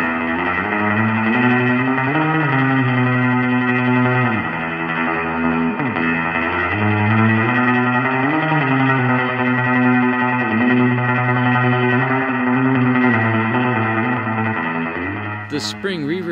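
Guitar played through the True Spring spring reverb algorithm, with sustained, drawn-out notes trailing into a splashy, metallic wash. The sound is loud and continuous, with no voice.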